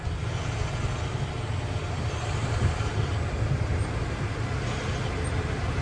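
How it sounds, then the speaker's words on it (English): A 2011 International WorkStar 7400 truck accelerates through its gears, a steady low engine drone with road noise heard from inside the cab, continuous and fairly loud. "First, second, third, and the acceleration is good."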